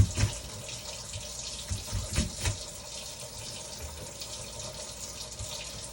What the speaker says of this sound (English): I always like to rinse off my onions.